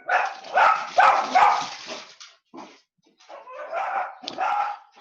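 Small dogs bark and yip in a run of sharp, close barks, then quieter intermittent yelps and whimpers after a short pause, heard during a home-based online class.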